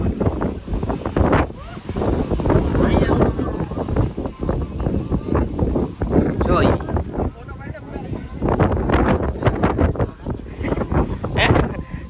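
Gusty wind on Girnar mountain, blowing through tree branches, roars against the microphone in continuous surging bursts for about twelve seconds while people talk over it.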